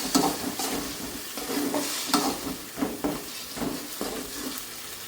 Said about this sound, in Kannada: ಈರುಳ್ಳಿ ಶುಂಠಿ ಬೆಳ್ಳುಳ್ಳಿ ಪೇಸ್ಟು ಇದನ್ನು ಹಾಕ್ಕೊಂಡು ಚೆನ್ನಾಗಿ ಸ್ವಲ್ಪ ಎಣ್ಣೆಯಲ್ಲಿ ಬಾಡಿಸ್ಕೋಬೇಕು